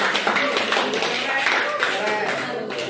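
Group of participants at a coaching session clapping hands, a brisk burst of claps mixed with voices talking over it.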